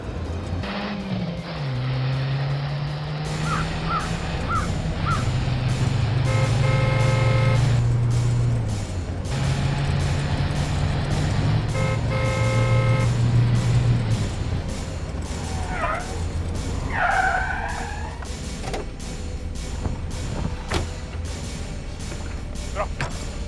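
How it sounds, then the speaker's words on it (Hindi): Cars race in a chase in a Hindi crime drama, one speeding to overtake another. Engines drone and rev steadily, with shrill tonal bursts and a few sharp squeals over the constant rumble. "दया, वो रहा, जल्दी भगाओ, ओवरटेक करो उसे।"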